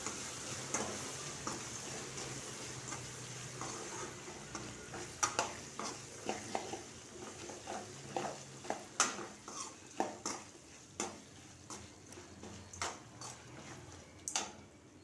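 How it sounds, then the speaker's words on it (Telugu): Curry leaves and green chillies crackle and sizzle in hot oil for a tempering, with steady frying hiss, occasional stirring scrapes and sharp pops growing more frequent toward the end, close up with no talk. "పోపు బాగా వేగుతున్నది"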